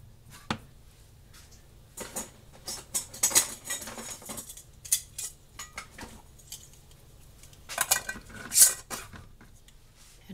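Metal rings are screwed onto hot glass jars of canned beef and gravy and stew, making scattered close clinks, taps and scraping twists, in irregular clusters with quiet gaps between them.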